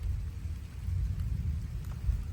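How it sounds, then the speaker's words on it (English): July rain on a North Texas ranch makes a faint, steady patter over a low rumble of distant thunder, with no voices. "Middle of July and rain in North Texas is a blessing."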